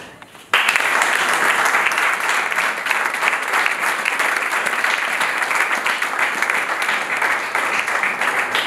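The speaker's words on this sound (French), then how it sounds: "Est-ce qu'on peut encore applaudir pour Valère?" Audience claps after a talk, starting abruptly after a brief quiet moment and swelling into a full, even wash of applause from many hands that stays steady to the end.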